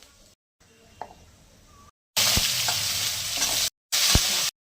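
Whole spices tempered in hot oil for a hing bori and banana-stem ghonto burst into a loud, steady sizzle after a quiet stretch, with sharp pops and stirring clinks, broken by brief gaps.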